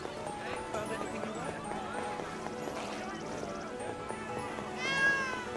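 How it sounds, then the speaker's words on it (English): A cat meows in the video game Granblue Fantasy: Relink, a brief mewing near the end over continuous game music and ambient sound. "It's just a cat."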